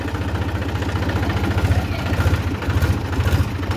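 A tractor engine idling after a stubborn start, giving a steady low throbbing chug with a mechanical rattle, close and loud, with no voices.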